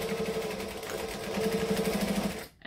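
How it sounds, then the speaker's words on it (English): Sewing machine stitching slowly through many thick layers of a bag, a steady close mechanical whir with a rhythmic needle pulse, ending abruptly. "Your sewing machine is stitching through a lot of layers right now."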